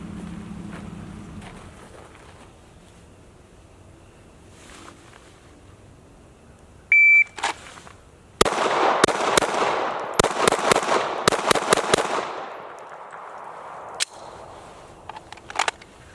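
A custom-built Glock G45 pistol fired at targets, with a quick string of loud, sharp cracks in rapid bursts after a near-silent pause and a beep, each shot ringing out close and echoing briefly.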